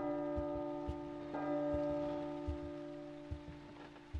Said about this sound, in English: Stop with the fucking bells.